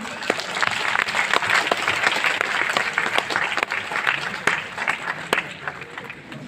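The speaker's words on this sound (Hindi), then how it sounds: "कृपया जोर से तालियां बजा दीजिए" Audience applause at a one-day university seminar during the release of a national seminar booklet by guests, loud and sustained dense clapping throughout with sharp individual claps standing out, fading slightly at the end.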